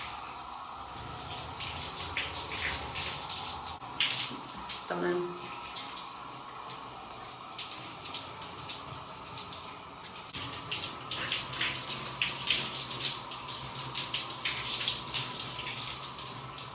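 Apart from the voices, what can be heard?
water splashing while washing a pan in a sink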